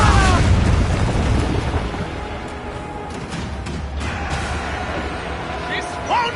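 Ship cannon fire in Assassin's Creed 4 Black Flag, deep booming blasts loudest at the start, then a sustained rumbling battle din with scattered bursts beneath it.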